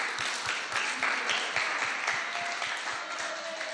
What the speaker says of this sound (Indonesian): tepuk tangan untuk Jansen.